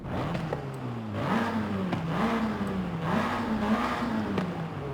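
Revving high through a new exhaust, a Volkswagen Golf R in Forza Horizon 5 holds a loud, close engine drone that rises and settles in waves over several seconds.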